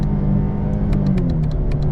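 Chevrolet Camaro V6 revving on a paddle-shift downshift, a steady loud engine rumble throughout with a few sharp clicks near the end, no talk.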